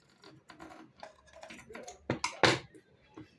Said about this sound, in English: Okay, so I'm going to cut the curve.